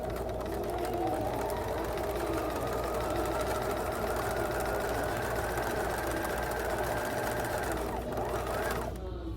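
A sewing machine runs steadily, stitching along a marked line with a continuous, close mechanical whir, then stops briefly near the end.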